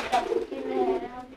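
A pigeon suffering from wry neck gives a short, soft coo close by, with a person talking over it.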